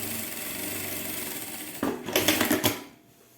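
A sewing machine stitches the lining of a small bag or wallet. A low steady hum is followed by a short burst of quick, clattering stitches near the end, then it stops.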